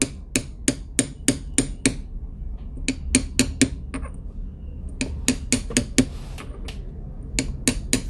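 A small metal hammer taps a cast silver pendant in rapid bursts of sharp, bright strikes, several clusters of quick blows separated by short pauses, close up.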